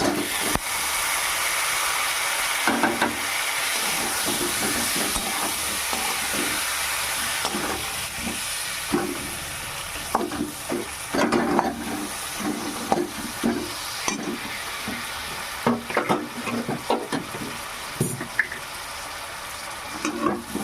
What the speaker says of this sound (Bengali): আর একটু এবারে আলু পটলগুলো ঢেলে দেবো